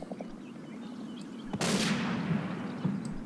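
Gunfire in the Combat Mission war game: a single sharp shot cracks out midway, followed by a few fainter distant pops over a low battlefield rumble.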